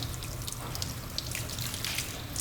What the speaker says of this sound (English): rinse your left hand only in this water here, and while you're doing it, I want you to run your fingers through the water like that